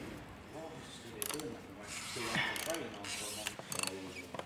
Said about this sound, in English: just undo it nice and slowly because it is quite a tight thread with a seal on there as well